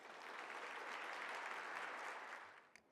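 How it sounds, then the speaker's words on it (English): Sustained audience applause at an inner-city health panel discussion in Calgary, steady broadband clapping from a crowd heard somewhat faintly, tapering off at the very end. "I wonder if you could all just give him a wonderful round of applause"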